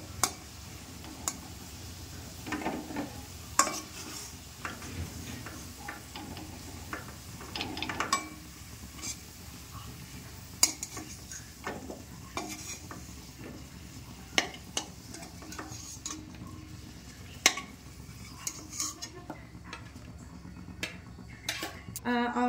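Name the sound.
fried potatoes lifted from the pan onto a plate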